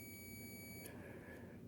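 A multimeter continuity tester emits a steady high electronic beep while its probes touch across a car fuse, then cuts off, faint and close.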